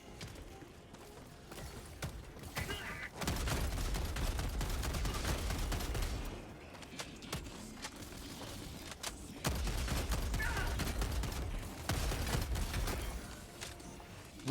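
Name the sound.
gunfire from a gun in video game Helldivers 2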